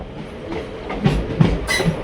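A diesel sleeper-class train pulling into Karatagi railway station on the Arsikere to Sindhanur route, a close rumbling ride with rhythmic wheel clatter and a few sharp metallic clacks.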